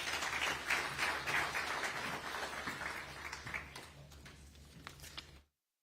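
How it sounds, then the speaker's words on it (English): An audience claps at the ZEDCON 2023 conference on sustainable development in Zimbabwe, with busy applause that thins into scattered claps before cutting off abruptly. "Round of applause."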